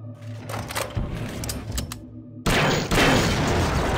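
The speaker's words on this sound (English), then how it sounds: "why is the explosion so wide?" A loud burst of an explosion in System Shock 2 erupts halfway through, a wide crackling roar that follows a stretch of rapid gunfire and rattling effects.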